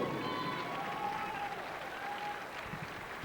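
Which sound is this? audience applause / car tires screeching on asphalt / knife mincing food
audience applause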